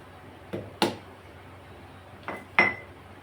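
Nutmeg being broken into pieces in a kitchen while making Kolhapuri masala, giving four brief sharp cracks or clinks in two pairs, moderately close against a quiet background.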